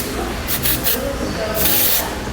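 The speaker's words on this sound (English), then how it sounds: "spray a little texture spray" Texture spray hisses onto hair in several short bursts, two quick puffs followed by a longer spray, close to the microphone with soft talk underneath.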